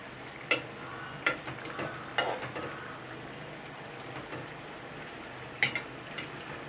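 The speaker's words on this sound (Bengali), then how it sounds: "ভেজে রাখা মাছগুলো দিয়ে আমি আরও পাঁচ মিনিট ফুটিয়ে নেবো" Fried tilapia fish simmering in a spicy oil curry, a low steady bubbling sizzle broken by a few sharp clanks and scrapes of a spoon stirring the pan, close and without talk.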